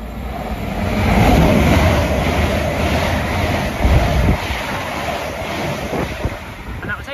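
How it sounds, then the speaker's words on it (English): An LNER passenger train from Edinburgh Waverley to London King's Cross passes through Cramlington, a loud, close rumble that swells and holds steady, with buffeting wind noise throughout. "passing through now is an LNER service from Edinburgh Waverley to London King's Cross"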